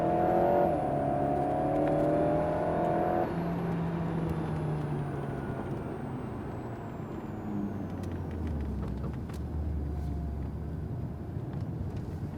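An Alpine A110S on the Lohéac circuit accelerates, its engine note rising steadily in pitch, then drops and settles into a lower drone, heard from inside the car under constant road and wind noise.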